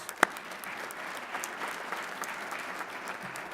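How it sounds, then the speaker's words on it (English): Steady applause from a crowd fills the room, a dense patter of many hands clapping at moderate volume, with one sharp louder clap near the start. "Real quick, round of applause."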